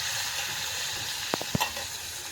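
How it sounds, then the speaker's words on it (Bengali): Koi fish frying in hot oil in a small wok over a clay stove, a steady close sizzle with a few brief clinks and stirring knocks near the end. "তেলটা গরম হয়ে গেছে, মাছগুলো ভেজে নেব"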